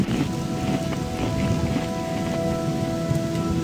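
Steady, dense rain pours down continuously in the Gothic II Archolos mod, a constant close wash of drops on surfaces with no pauses and no voices over it.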